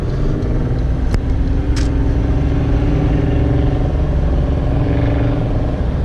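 A Grand Prix GTP engine idles loudly and steadily up close, a deep continuous rumble with a couple of brief clicks near the start.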